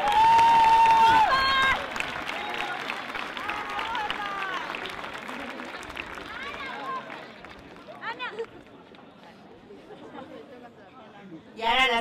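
At a festival queens' proclamation in Spain, an audience gives applause for the outgoing honorary helpers. The clapping starts loud with whistles, then fades into crowd chatter and voices before a short burst of clapping returns at the end.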